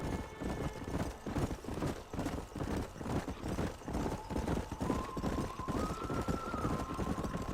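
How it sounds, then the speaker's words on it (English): Hooves of a herd of horses galloping in the Red Dead Redemption video game, a dense, steady clip-clop rhythm pounding continuously at close range, with a faint tonal musical line rising in the background. "There's Herd of horses."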